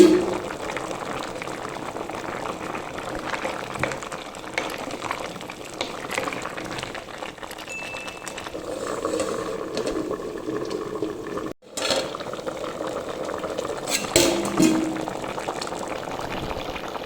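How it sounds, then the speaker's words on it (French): Breadfruit and red cowpea stew with coconut simmers in a loosely covered pot, a steady close bubbling and soft hissing boil running throughout with a few brief clinks and a short pause near the middle. "Allez, on va laisser mijoter."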